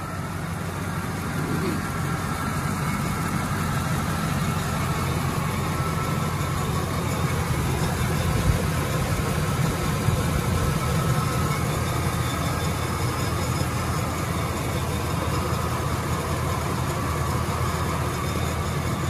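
A 2006 GMC Savana 2500 van with a 4.8 V8 gas engine idles at an auction lot, a steady low rumble holding constant throughout with no revving, heard close up.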